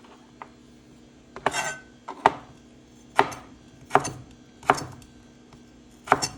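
Close, crisp knife chops strike a cutting board while a thick-skinned vegetable is cut into pieces, about six separate thuds spaced roughly a second apart, with no speech.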